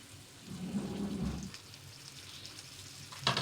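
Food heats slowly in a pan with a steady, soft sizzle like light rain, louder near the start, with a brief sharper crackle near the end and no talking.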